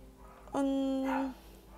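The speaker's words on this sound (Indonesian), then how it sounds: "aku lagi baca kayak gini terus anjing berisik banget dan ada anjing luar, bukan anjing rumahku" A single sustained howl-like bark from a dog outside, fairly clear against a low background hum, lasting under a second.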